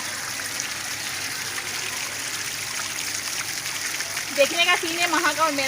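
Water pours continuously from a burst household water pipeline, a steady close rushing splash, while someone talks over it toward the end.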